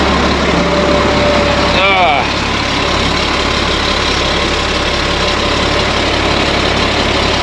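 A GMC C7500 truck's engine idles steadily nearby during oil leak repair work, a continuous low rumble with a brief whistling squeal and a clank near the start.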